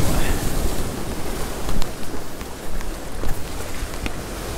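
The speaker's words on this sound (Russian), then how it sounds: "Бьет волна, вот так это выглядит" Waves break on a pebble beach at Adler in Sochi, a loud, continuous wash of surf with rushing noise and a few stronger surges, heard alone without voices.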